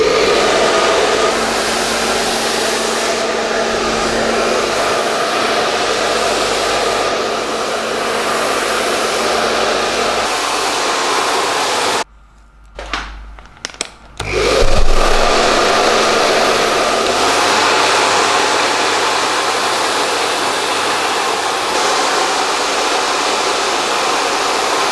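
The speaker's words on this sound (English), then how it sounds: "This is sufficiently blow dried on both sides" Hair dryer blow drying hair, a loud steady roar that cuts out briefly midway with a few handling clunks, then resumes at full blast.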